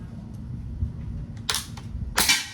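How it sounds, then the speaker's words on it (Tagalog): Two sharp shots from an SPMC frame-type airgun crack out about half a second apart, loud and close, over a low steady background rumble. "5 shots, so okay po tumama Sir Gabriel"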